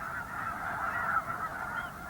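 Wild geese honk continuously in a steady, fairly distant chorus with no voices over it.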